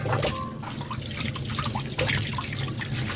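Running water splashes and trickles steadily over ripe mangoes being washed, close and continuous for the whole stretch with no voices.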